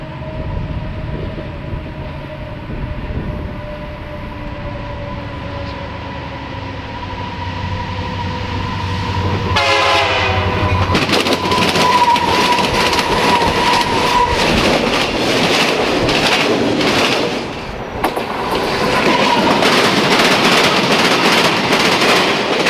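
Freight trains passing at McCook, Illinois in 1990, including a GP60M locomotive: a steady rumbling approach builds into loud, continuous clattering of rail cars with rhythmic wheel beats, holding close and heavy to the end.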